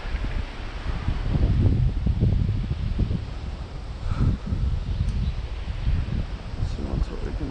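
Wind blows steadily across a riverbank while fishing on the Milwaukee River, a broad low rumble and gusting buffet that swells and eases throughout, loud and close as if striking the microphone.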